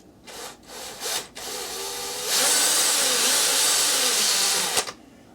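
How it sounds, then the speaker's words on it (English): A power drill whirs in short bursts, then runs steadily under load drilling a clearance hole in metal, with a rough grinding edge before stopping abruptly. Close by, no talking. "give that a little bit of a drill"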